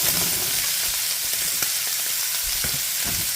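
Onions and peppers, the onions cut large, frying in a hot pan: a dense, steady close sizzle with occasional soft clicks of stirring, no voices.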